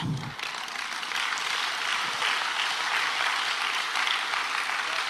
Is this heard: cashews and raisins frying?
no